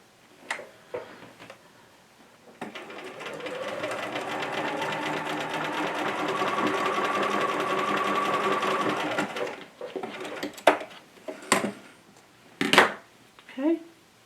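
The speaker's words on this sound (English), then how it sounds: "And then I'm going to stitch right along this again." A sewing machine stitches along a pin keep meant to hold emery, running in one steady burst of about seven seconds, followed by a few short clicks and handling noises.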